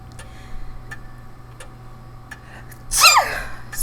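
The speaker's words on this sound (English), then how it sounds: "I didn't mean to sneeze." One sudden, loud sneeze bursts out near the end, after a few seconds of faint, sparse ticking in a quiet room.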